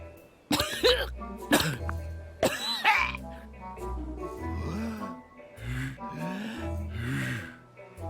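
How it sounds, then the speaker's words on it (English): A cartoonish character in the video game Manual Samuel coughs in several harsh bursts, then sputters and gasps, with exaggerated throaty vocal noises and a low musical backdrop. "He has to cough."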